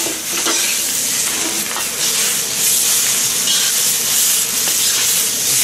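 Onions for beef chow mein fry in a hot pan, a loud, steady sizzle and hiss filling the kitchen, with a few scrapes of stirring in the first seconds and no voices.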